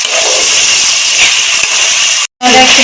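Spinach paneer masala sizzles loudly in a pan after a splash of the paneer soaking water, a steady bright hiss with a brief cutoff near the end before resuming.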